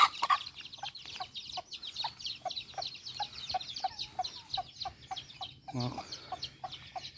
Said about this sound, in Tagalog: Ayan, manok natin.